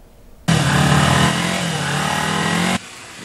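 A motorcycle engine revs up loudly and close by, holding a steady high drone for about two seconds before cutting off abruptly, with no talking.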